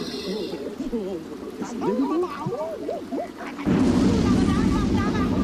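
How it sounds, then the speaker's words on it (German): A sudden loud, rumbling thunder crash from a lightning strike in The Sims 2: Seasons bursts in partway through, following a stretch of speech, and keeps roaring steadily to the end. "Oh, Blitz eingeschlagen."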